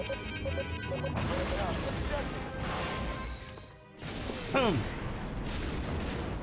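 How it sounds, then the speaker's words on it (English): An incoming missile and explosions in the Star Wars TIE Fighter space combat game, with heavy booming blasts and descending whooshing tones over a droning engine bed, a sharp impact near the end, a voice talking over it. "Oh, okay. Incoming missile."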